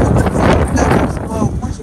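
Strong outdoor wind buffets the microphone, producing continuous loud rumbling gusts that swell and fade throughout.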